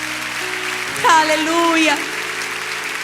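A church congregation applauds steadily in the background while a voice shouts a short exclamation over it; the clapping stays fairly soft and even beneath the voice.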